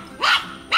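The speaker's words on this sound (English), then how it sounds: "Dia kayak gonggongin segala hal orang lain lewat." A puppy barks twice nearby, sharp and loud, with a short pause between the barks.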